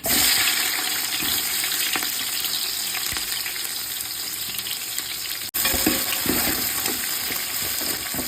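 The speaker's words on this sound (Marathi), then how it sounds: "आता आपण त्यामध्ये टाकू उभा चिरलेला कांदा" Sliced onions hit hot oil over well-roasted whole-spice masala in a pan, giving a loud, steady, broadband sizzle that runs throughout with a brief dropout near the end, no voices.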